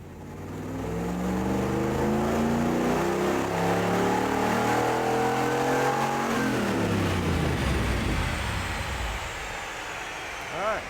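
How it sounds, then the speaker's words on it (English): A 1994 Camaro's engine on a Dynojet chassis dyno pull, rising steadily in pitch as it revs hard for several seconds, then the tone drops off as it winds down; loud and continuous with faint voices in the background. "we'll be ready for our first Dyno jet run"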